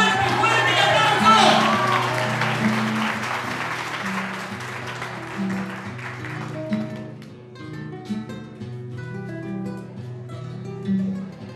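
An audience applauds loudly on a local Uruguayan TV variety program in Ecilda Paullier; the dense clapping swells in the first seconds, then thins and fades beneath music and a voice.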